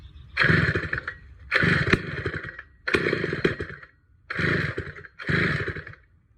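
Peerless 950 chainsaw, a very heavy old saw, cranked five times with the switch and choke on: five evenly spaced bursts of rough mechanical rattling, each about a second long, with brief gaps between pulls, close and fairly loud.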